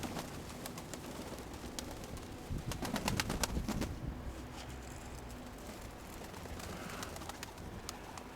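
Pigeons at a loft in the evening coo softly and low, faint and partly buried under steady outdoor wind noise, with a brief flurry of sharper sounds midway.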